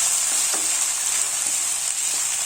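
Vegetables for Kerala aviyal sauté in a pan with a steady, even sizzle and a few faint taps of stirring, close by and continuous, with no voices.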